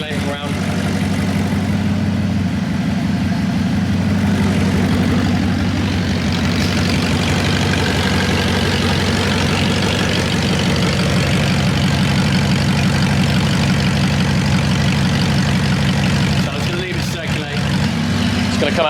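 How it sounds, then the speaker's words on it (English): A rebuilt Audi R8 engine settles into a steady, smooth idle, a loud continuous low rumble with an even hum that holds throughout, near and alone with no talking over it. "So I'm going to leave it to idle for maybe 5-10 minutes, see what it's like."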